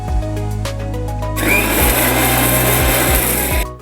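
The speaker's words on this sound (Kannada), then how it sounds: "ಒಂದು ಅರ್ಧ ಕಪ್ಪಷ್ಟು ತೆಂಗಿನ ತುರಿ ಇದಿಷ್ಟಕ್ಕೆ ಈಗ ಸ್ವಲ್ಪ ನೀರನ್ನು ಹಾಕಿ ರುಬ್ಬೋಣ" Grated coconut with a little water grinding in a mixer grinder: a loud, close motor whine that starts up after a few low clunks and runs steadily, with brief thuds and a quick cutoff at the end, no talking.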